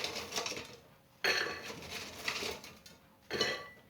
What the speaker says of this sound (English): let's plate these bad boys up